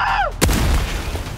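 A water balloon from a backyard water fight bursts in one sharp, loud outdoor pop, followed by splashing spray and a fading wet patter.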